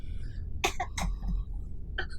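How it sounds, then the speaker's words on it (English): A person in a fantasy role-playing session coughs a few times in short, rough bursts, close and moderately loud over a low background hum. "I'm gonna follow her coughs."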